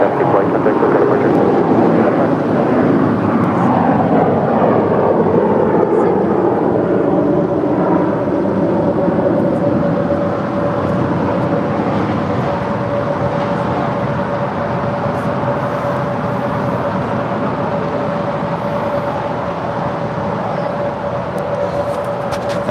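A CRJ 700ER jet airliner departing LAX for Denver roars loudly and steadily with a broad rushing jet noise that slowly shifts in tone as it passes, with wind buffeting the microphone throughout.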